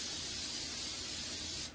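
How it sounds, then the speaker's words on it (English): Cooking spray hisses from a can onto a baking pan in one steady, close, loud burst lasting under two seconds. "I better spray that pan."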